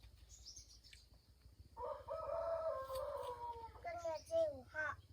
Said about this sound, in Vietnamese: Con gà tre của ai á?